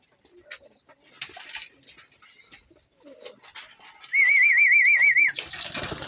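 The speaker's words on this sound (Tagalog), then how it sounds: "Ayan po guys, ang mga ibon natin." Pigeons coo among scattered bird calls and rustling, with a sustained warbling tone near the end, fairly close and without talk.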